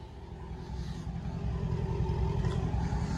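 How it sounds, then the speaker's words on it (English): Dodge SRT 392 V8 car idling close by, a deep steady burbling rumble that swells slightly partway through and holds with a rough, even throb. "But I want y'all to hear the idle of the car."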